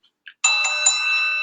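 An opening bell sound effect rings out loud and clear, with a couple of short electronic blips followed by a sustained bright ringing tone that holds steady, with no voices over it.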